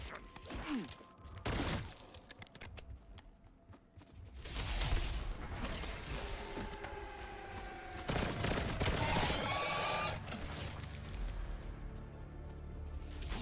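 Bursts of gunfire ring out in Call of Duty: Black Ops zombies on Ashes of the Damned, with repeated shots and mechanical weapon sounds over a busy game mix.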